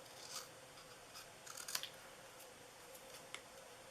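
Scissors cut paper for a DIY Christmas gift box with faint, quiet snips scattered over a few seconds against a soft background hiss.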